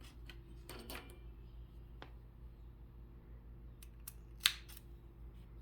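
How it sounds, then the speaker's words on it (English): Scissors snip through crochet yarn after a finished granny square round, giving a few faint, close clicks with one sharper cut, against a quiet room hum and no talking. "you can cut your yarn."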